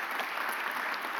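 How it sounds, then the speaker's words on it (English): Short burst of audience applause at a mayor's press conference on a city workers' union update, steady dense clapping filling the moment, fairly faint and heard from a distance. "Can we give them a round of applause since they're back?"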